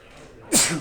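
A single sharp sneeze bursts out close by after a moment of quiet.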